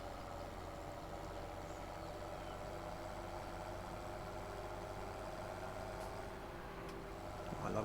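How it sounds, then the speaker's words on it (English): A 724 tractor engine in a farming video game idles with a low, throaty, steady rumble, fairly quiet and even, rising slightly near the end. "I love how throaty this 724 sounds."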